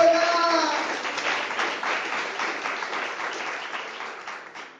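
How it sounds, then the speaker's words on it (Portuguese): A church congregation applauding during a sermon, a broad fading wash of clapping heard from within the room, with a voice briefly over the start. "Palmas ao Senhor Jesus."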